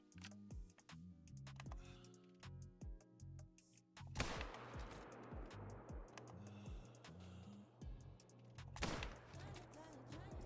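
Sharp rifle shots in theHunter: Call of the Wild, two loud cracks several seconds apart, each with a long echoing tail, over quiet ambience and faint clicking.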